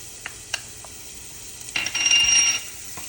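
Shallots dropped into hot oil in a pan for a Thai basil squid stir fry: a few light clicks, then a loud, close hiss and sizzle that swells for under a second before fading.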